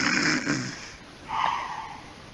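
A person mimics snoring with their voice amid a gaming session, giving two rough, breathy snore-like bursts, the first low and gravelly, the second higher and nasal, fairly close.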